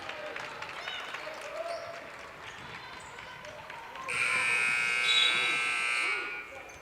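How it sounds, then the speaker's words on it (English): A high school girls basketball game buzzer ending the first quarter, a loud sustained electronic blare cutting in over gym crowd noise and sneaker squeaks, lasting about two seconds. "The buzzer had already sounded."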